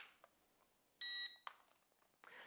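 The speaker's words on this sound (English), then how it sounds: "You will hear a beep and the lights will continuously flash on the drone." A drone controller gives one short, sharp electronic beep as it enters training mode, sounding alone in an otherwise very quiet room.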